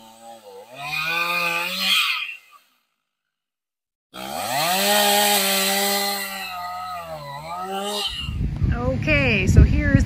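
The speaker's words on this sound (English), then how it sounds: "cutting off some of the smaller branches with the whatever this is, pole chainsaw?" A pole chainsaw cuts smaller branches from a fallen tree across a driveway, whining loudly in two bursts as the revs rise and fall under load, separated by a short silence and followed by cracking wood.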